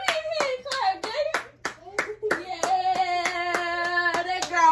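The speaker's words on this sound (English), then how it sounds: "Give me a hand clap, baby." Sharp hand claps crack out in a fast, irregular rhythm at a family gathering, close and loud, mixed with excited singing and chanting voices over a steady backing beat.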